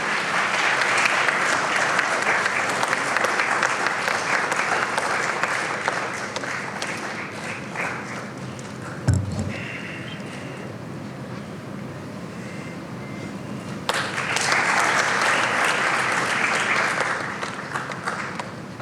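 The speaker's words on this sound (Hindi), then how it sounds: "आपकी जोरदार तालियां आपकी तरफ से अभिनंदन का द्योतक हैं।" An audience at an awards ceremony for a state governor applauds in loud, sustained clapping, which dips briefly and then swells again.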